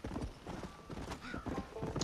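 Horse hooves clip-clop in a quick, steady galloping rhythm in the Red Dead Redemption video game, with a faint whinny and game ambience, moderately loud and close.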